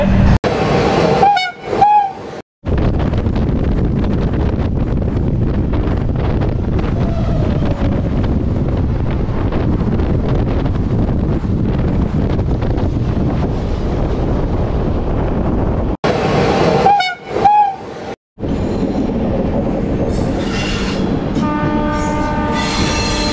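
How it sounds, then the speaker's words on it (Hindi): Indian passenger train 12193 (Yesvantpur–Jabalpur) running through Yelahanka junction without stopping, with a loud continuous rumble of wheels and carriages, a few sharp horn toots at the start and again near the end, plus wind buffeting. "ऐसे यनहलका स्टेशन जो है वो अभी स्किप कर रही है अपनी ट्रेन"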